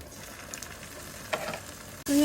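Scallops searing in a small amount of oil for a steak-style rice bowl sizzle and crackle steadily up close, ending in a sudden louder hiss as the pan flares.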